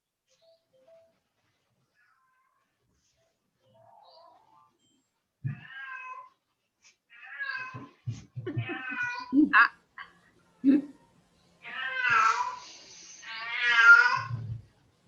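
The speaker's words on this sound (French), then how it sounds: "C'est un chat ou un bébé? Un chat." Cat meows several times in drawn-out, wavering cries, close and growing louder toward the end, with quiet stretches between calls and a brief human utterance.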